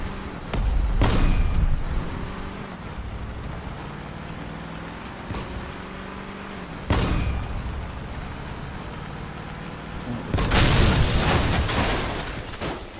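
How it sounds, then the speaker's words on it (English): Armed vehicles trading fire in a Crossout battle, a few heavy booming blasts and bursts spaced several seconds apart over a steady engine rumble. "There's another little battle going on there, they're shooting each other"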